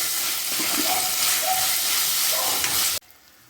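Spices and turmeric sautéing in a pan for Kerala tomato fish curry: a steady, loud sizzle with faint stirring scrapes that cuts off abruptly near the end.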